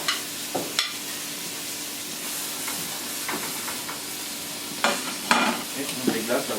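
Lamb shanks sear over vegetables in a hot pan, with a constant sizzle and sharp clatters of a utensil moving the meat, loudest toward the end.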